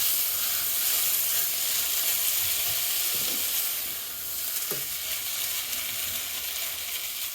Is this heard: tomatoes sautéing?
yes